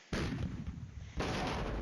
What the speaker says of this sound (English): Okay, so I decided to hit that guy with artillery.